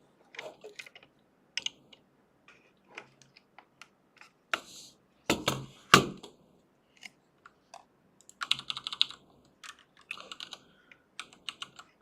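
Irregular clicks of a computer keyboard, some keys tapped singly and others in quick clusters, sound close and fairly quiet in a silent room.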